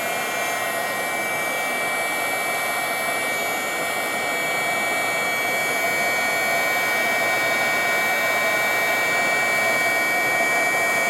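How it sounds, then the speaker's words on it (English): Heat gun blowing steadily on fusible webbing, a continuous loud airy roar with a faint high whine, unbroken for about eleven seconds with no talk. "I'm going to take my heat gun again, and I'm going to heat this up."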